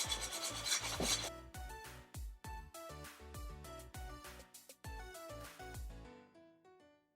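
Scrubbing burnt stains off a pan with a paste of baking soda and vinegar, heard as close, loud rasping strokes in an uneven rhythm with short pauses between bursts, and no talk.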